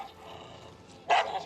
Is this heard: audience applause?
no